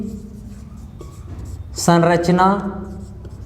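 Writing on a board during a Class 12 chemistry lecture gives a steady soft scratching beneath a teacher's voice, which rises over it partway through.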